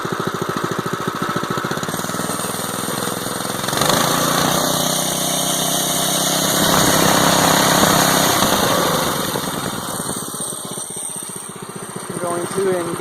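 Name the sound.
small tractor engine revving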